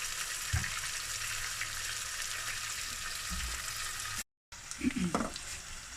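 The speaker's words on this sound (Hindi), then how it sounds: "प्याज को जो है वो हम सौते करेंगे।" Onions sizzling steadily in a hot pan for aloo baingan, a constant crackling hiss with occasional clinks of stirring and a brief cut near the end.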